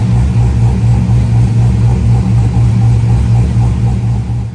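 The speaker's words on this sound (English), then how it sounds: "gotta love that crispy throttle response that you get with the cam Corvette" A C5 Corvette with a swapped camshaft idles loudly in a parking lot, a deep, lumpy, choppy rumble that stays steady and close with slight throttle swells and no talk.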